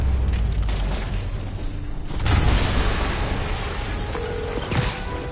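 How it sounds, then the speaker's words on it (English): A cartoon explosion in an animated Spider-Man action scene: a loud, sustained booming rumble that swells partway through, with rattling debris-like noise, no talk. "an explosion just..."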